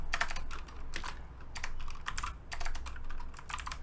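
Fingers typing on a computer keyboard while entering text in PowerPoint. Quick bursts of clacking keystrokes come in short clusters, close and clear, with no voices.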